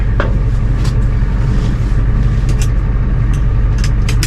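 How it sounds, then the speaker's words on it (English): A deep, throaty straight-pipe exhaust rumble from an idling Ford F350 truck, steady and loud throughout with no pauses. "So everyone can hear that beautiful straight pipe."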